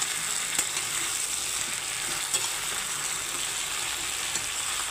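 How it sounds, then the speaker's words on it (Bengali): Potatoes, cauliflower and onion frying together in a pan, a steady close hissing sizzle with occasional faint stirring clicks, continuous throughout and no talking. "আলু পেঁয়াজ ফুলকপি সবই একসঙ্গে ভাজা হয়ে যাচ্ছে।"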